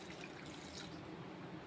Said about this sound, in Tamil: இப்போ கொஞ்சம் காணி தண்ணி ஊற்றிக்கிடுவோம்.